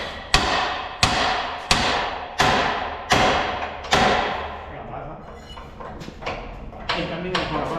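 Hammer blows driving a new pin into a front wing post land as a run of heavy metallic thuds about once a second, each ringing briefly. The blows fade to softer knocks near the end.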